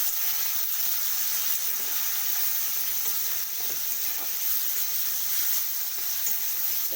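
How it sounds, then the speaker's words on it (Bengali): Fish curry masala with salt and turmeric sautés in a pan, giving a continuous close sizzle with faint scrapes of stirring scattered throughout. "তো এটা একটু ভালো করে কষিয়ে নেব।"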